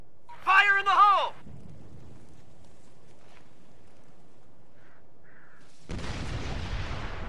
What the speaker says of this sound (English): That was a controlled explosion?